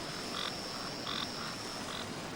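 A small frog with suckered toes gives repeated short croaks, three evenly spaced calls over a constant hiss of background noise.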